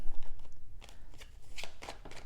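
Tarot cards are shuffled in a quick run of crisp riffles and flutters, several bursts of card noise close by, with no voices over them.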